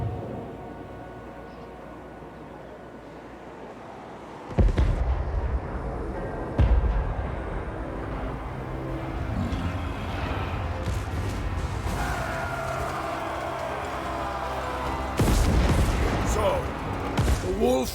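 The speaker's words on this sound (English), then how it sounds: "Cannons fire upon the defenders." Cannons in the Total War: Warhammer III video game fire on defenders with several heavy booms spaced through a battle din, while a voice speaks over the action.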